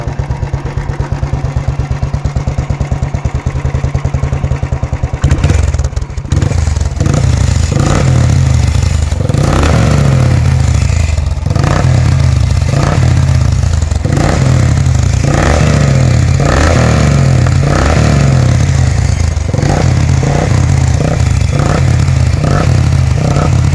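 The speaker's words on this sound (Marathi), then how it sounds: "तर आता गाडीला स्टार्ट करू." A motorcycle outside a small temple buzzes low, then its engine catches and runs loud and close. It rises and falls in repeated revs with some mechanical clatter, and no one speaks.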